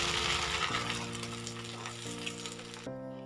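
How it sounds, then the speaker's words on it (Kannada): A tempering of green chillies and curry leaves sizzles loudly as it is poured into ridge gourd tovve, a bright hiss that gradually softens, with a low steady hum beneath. "ಈ ಒಗ್ಗರಣೆನೀಗ ಸಾಂಬಾರಲ್ಲಿ ಸೇರಿಸೋದು"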